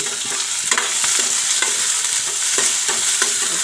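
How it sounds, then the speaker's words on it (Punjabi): Onion and cumin sizzle steadily in hot oil, a continuous frying hiss with repeated stirring scrapes throughout, close and fairly loud, no talking. "ਲਓ ਜੀ ਤੇਲ ਆਪਣਾ ਹੋ ਗਿਆ ਗਰਮ ਤੇ ਚ ਪਾ ਲਾਂਗੇ ਥੋੜਾ ਜਿਹਾ ਜੀਰਾ ਤੇ ਇਸ ਤੋਂ ਬਾਅਦ ਆਪਾਂ ਪਾ ਦੇਣੀ ਇਹਦੇ ਵਿੱਚ ਪਿਆਜ਼"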